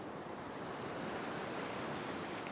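Ocean waves surge against coastal rocks at a rock fishing spot, a dense, continuous close roar of surf and wind with no voices.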